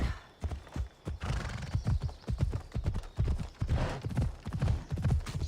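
Horse in the video game Assassin's Creed Odyssey, with a steady clip-clop of hooves and a loud whinny, close up with no talking.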